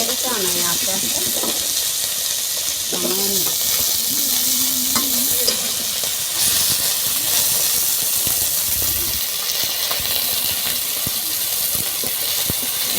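Food fries in a pan with a continuous close sizzle and hiss, while a voice talks intermittently over the cooking noise and stirring clatter.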